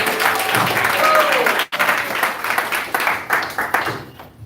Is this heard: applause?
yes